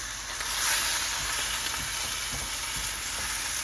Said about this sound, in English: So you can hear that sizzling away nicely there, can't you?